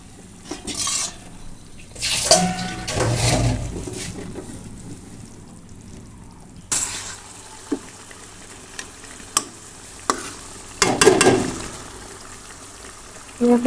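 Pangas fish frying in spiced oil sizzles in a pan, broken up by bursts of stronger crackling, scraping of a spatula and scattered clinks of utensils.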